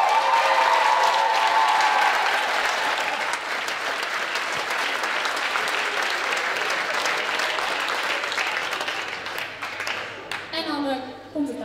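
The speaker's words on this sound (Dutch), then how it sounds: "En even een dagelijks applaus." A school pop stage show audience gives sustained, dense clapping close by for around ten seconds, which thins out while a voice begins speaking near the end.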